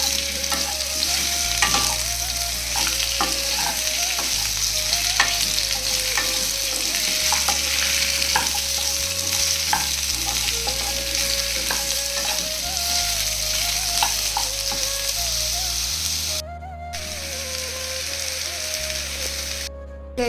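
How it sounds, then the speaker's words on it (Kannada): Totapuri mango pieces stirred into spicy pickle masala in a pan, a continuous sizzle with repeated scraping strokes of the spoon, close and steady, with no voices. "ಇವಾಗ ಮ್ಯಾಂಗೋ ಹಾಕ್ಕೊಂಡು ಒಂದು ಟೈಮ್ ಚೆನ್ನಾಗಿ ಮಿಕ್ಸ್ ಮಾಡಿ"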